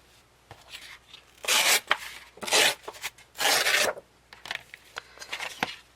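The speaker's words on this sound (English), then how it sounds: "then I'm going to tear this in two" A paper file folder being torn in two: three loud, rasping rips in quick succession, each lasting about half a second, with softer crinkling and handling of the paper before and after.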